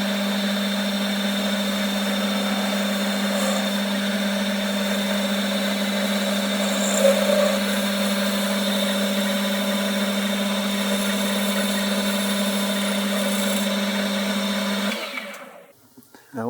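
Metal lathe taking a finishing cut with a small tool after a roughing tool, a steady continuous hum and whine running evenly before fading out at the end.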